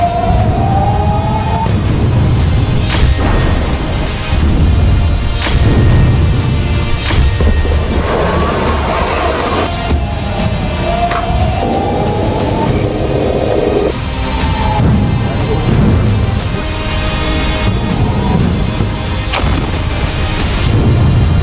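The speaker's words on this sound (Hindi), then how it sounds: "लेकिन आज देखिए फिर से धमाके हुए हैं।" Explosions in news footage from the Iran–US conflict crack and rumble repeatedly through a loud, continuous roar, with sharp bursts every few seconds and rising wailing tones, with no voices.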